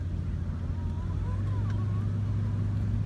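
A 1973 Mercury Cougar XR7 convertible cruising down the road, a loud steady low engine drone and road rumble from inside the car, with no talk.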